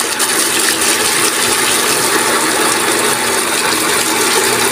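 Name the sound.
shallow water pump drawing water from a well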